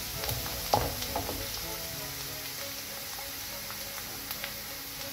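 Parsley and garlic sauce sizzles steadily in a wok, a close, even crackle with a few soft stirring knocks and no talk.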